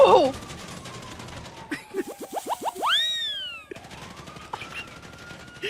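Rapid burst of game gunfire aimed at a car in GTA, a quick run of sharp pops followed by a sweeping cartoonish boing, loud and close amid background game sounds.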